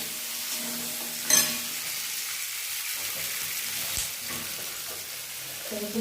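Onion frying in a pan, a steady close sizzle with a brief stir or clatter partway through, no talking over it.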